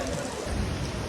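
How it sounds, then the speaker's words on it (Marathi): Heavy rain falls in a steady, close, broadband wash on a trip near Shiv Khori, Jammu and Kashmir, with no break across the short stretch. "पाऊस जाम आलाय"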